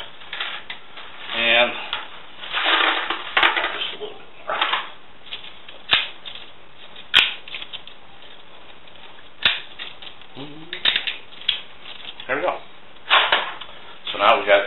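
Dry fettuccine is snapped in half in a kitchen, a series of sharp, close cracks and crunchy bursts scattered across the clip, with muffled low-fidelity background noise between them.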